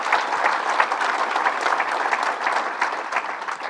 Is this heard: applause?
yes